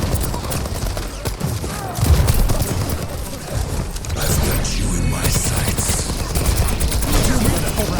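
Rapid automatic gunfire in the video game Overwatch, with dense bursts of shots layered over busy game effects and explosions, loud and continuous for several seconds.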